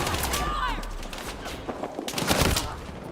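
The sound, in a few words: submachine gun fire in the Battlefield video game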